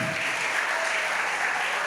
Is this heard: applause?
yes